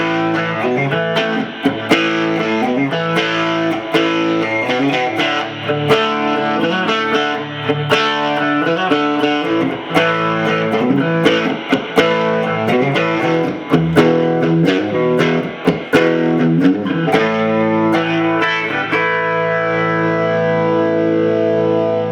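An electric guitar played through a Blessed Mother Immaculator overdrive pedal, set to about two o'clock, rings out in bright, lightly driven strummed chords and picked notes with a clean, crisp edge, played continuously and alone.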